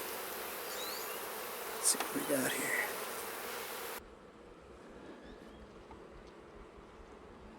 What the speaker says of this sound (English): a lot of bees fell off